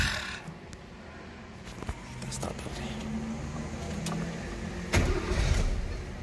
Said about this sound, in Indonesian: Coba kita starter.